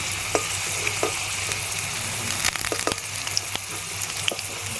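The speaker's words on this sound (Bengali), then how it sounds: "পেঁপেটাও লাল লাল করে ভেজে নিয়েছি" Papaya pieces frying in hot oil for a Bengali rui fish tok, giving a steady close sizzle with scattered clicks of stirring throughout.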